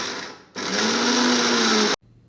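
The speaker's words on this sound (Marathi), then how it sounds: "सगळे ड्रायफ्रूट्स एकद एक एकत्र असे मिक्सरला घ्यायचे आहेत आणि त्यातच ते भिजवलेले खजूर पण टाकायचे आहेत आणि मिक्सर फिरवायचा आहे" Mixer grinder blending dry fruits and soaked dates, a loud, steady, high-pitched motor whine that runs for about a second and a half, then cuts off abruptly, with no talking.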